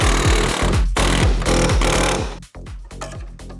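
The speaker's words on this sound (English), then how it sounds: "Air hammer, quality tool, very strong, and can put holes in metal sometimes" An air hammer pounds on metal on a GR Supra, a loud rapid stream of hits in bursts with brief pauses and a sharp cutoff near the end.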